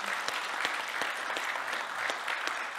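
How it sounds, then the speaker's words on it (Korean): An audience applauds at the close of a meditation talk at an international meditation expo in Seoul, moderate clapping with distinct individual claps sounding in a steady, loose rhythm. "관계자분들께도 큰 박수 한번 부탁드리고 싶습니다"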